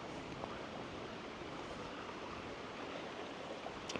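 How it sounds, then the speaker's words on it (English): Creek water runs near a waterfall on a nature walk, a steady, broad rushing hiss that stays even throughout, moderately soft and uninterrupted, with no voices. "Just listen to the water, though."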